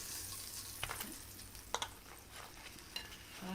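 Pieces of fish fry in hot oil with a low, steady sizzle, broken by a few soft clinks and scrapes of a utensil against the pan, close and quiet with no talking.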